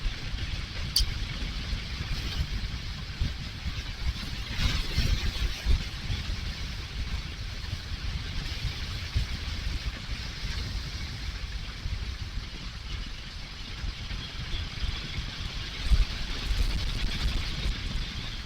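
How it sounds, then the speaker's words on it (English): Gusty wind buffeting the microphone on a crazy-weather day, a steady low rumble that swells and eases throughout, loud and continuous with no talk. "It's still windy."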